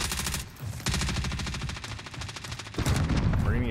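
Rapid automatic gunfire in a shooter game, with fast regular bursts of shots that continue for most of the stretch, pause briefly, then resume louder near the end.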